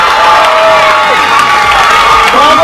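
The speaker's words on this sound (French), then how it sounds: "merci d'offrir un tonnerre d'applaudissements pour les centres du Far West Plus" Crowd of children at a holiday-camp gathering cheering loudly, high shouts and whoops overlapping in a sustained roar with some clapping mixed in, close and intense throughout.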